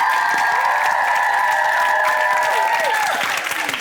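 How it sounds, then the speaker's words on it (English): A studio audience on a sports skills game show gives a loud, steady round of applause lasting the whole stretch, with a few cheers mixed in and no talk over it. "I think that deserves a round of applause."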